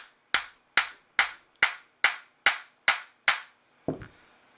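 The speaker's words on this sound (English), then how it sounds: "So I'm just going to tap this shaft back into place." A hammer strikes a steel shaft on a Hummer H2 windshield wiper motor eight times in an even, sharp rhythm, each ringing tap decaying quickly, followed by one duller knock.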